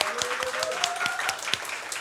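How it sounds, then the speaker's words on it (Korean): A church congregation applauds together, a moderately loud, even patter of many hands clapping that continues steadily throughout. "우리 하나님께 영광의 박수."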